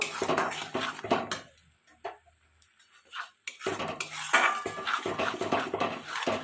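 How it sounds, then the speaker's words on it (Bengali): A spoon or spatula knocks and scrapes against a metal pan while mashed flat bean paste with sugar is stirred, clinks arriving in short bursts around a quiet pause, close and fairly clear with no voices. "দিয়ে আমি ভালো করে এটা নেড়ে নেব"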